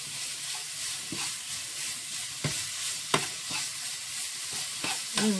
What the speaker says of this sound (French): moi je vais faire revenir ma viande hachée directement comme ça